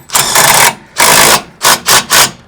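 A socket wrench tightens a bolt with a 24 socket while fastening a hitch-mounted ebike rack, giving a close, loud ratcheting buzz in two long bursts followed by three short quick pulls.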